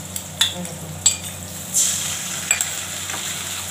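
Onions frying in a pan after bay leaf, cumin and black cumin, a steady low sizzle broken by a few sharp spatula scrapes and clinks, with no talk.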